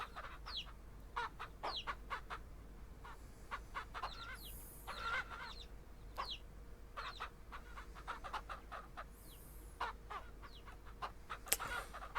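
Three or four roosters in the Ranch Simulator video game cluck in short, scattered bursts over a steady low hum, faint and somewhat distant, with no talking.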